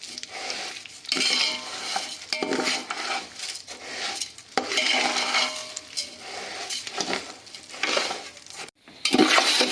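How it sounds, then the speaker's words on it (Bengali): Rice being fried in oil and ghee with whole garam masala in a pot for chicken biryani, with repeated metal spatula scrapes and clinks against the pot over a low sizzle, in irregular bursts. "এবার এই চালটাকে আমরা একটু খুব ভালোভাবে ভাজা করে নেব এই তেল আর ঘিয়ের মধ্যে দিয়ে।"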